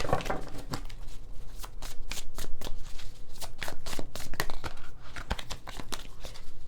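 Tarot cards being shuffled in the hand, a dense run of crisp riffling and slapping bursts that carries on steadily for the whole stretch at close range, with no talking over it.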